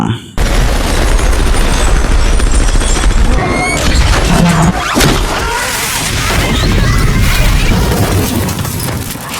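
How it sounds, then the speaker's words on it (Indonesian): A bomb goes off inside an elevator in a movie scene: a loud, sustained blast with a rumbling boom and crashing, shattering debris that fades into a long roar. "namun lift tersebut ternyata telah Clay pasangi bom"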